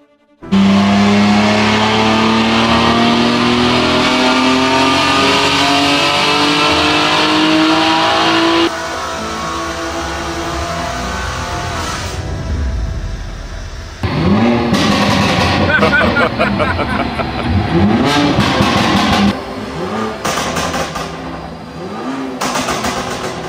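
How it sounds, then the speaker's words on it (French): A powerful BMW M3 engine, rebuilt after a crash, revs hard on a dyno and climbs steadily in pitch, then drops, followed by several sharp bursts of revving, loud and close. "Maintenant, Phil va régler le moteur et nous allons voir ce que nous pouvons en tirer."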